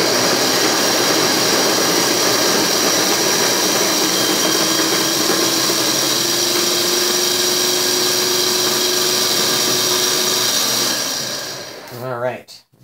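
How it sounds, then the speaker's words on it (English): Cuisinart CBM-18 conical burr grinder grinding coffee on its finest setting, a loud steady motor whine with grinding hiss running continuously before winding down and stopping near the end. "I'm going to just manually grind this until it's out"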